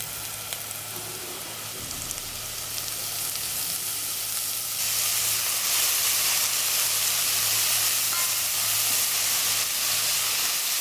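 Sliced mushrooms hit a hot pan with garlic already frying, and a loud, steady sizzle and hiss swells and grows denser as they cook, close up, with no one talking.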